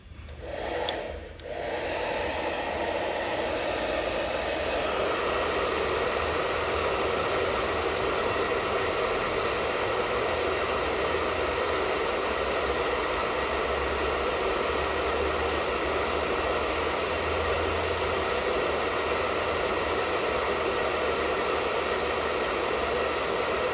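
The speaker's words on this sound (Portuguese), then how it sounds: "Agora a gente vai colocar o secador com o ar frio." A hair dryer on its cold-air setting blows steadily and close for the whole stretch, a continuous broadband whoosh after a brief start-up, with no talking.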